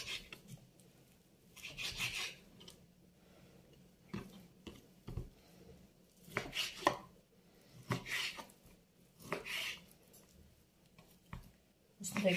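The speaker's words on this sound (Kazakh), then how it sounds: "үлкен қылып төртбұрыштап тураймыз" Knife chopping beef into large square chunks on a board, irregular clusters of sharp close cuts and scraping, with quiet gaps between bursts.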